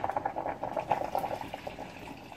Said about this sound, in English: I'm going to put a bit more water in it